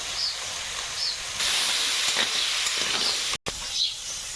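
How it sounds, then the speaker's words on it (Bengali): Chilies frying in a pan give a steady, close hiss and sizzle with no talk, broken by a brief silent gap near the end. "লঙ্কা ভাজা হয়ে গেছে"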